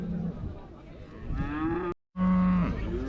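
Cattle low and moo at a Scottish agricultural show, the Kirriemuir Show, with junior handlers leading young cows; two drawn-out calls, the second louder, sound close over a busy crowd murmur, split by a brief silent gap.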